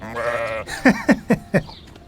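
A sheep bleats four times in quick succession, close by, after a moment of a voice speaking.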